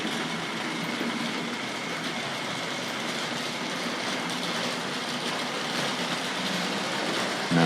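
A Tri-ang or Hornby Dublo model train runs around its track with a steady, continuous rolling whir that holds level throughout, close and fairly loud, with no talk.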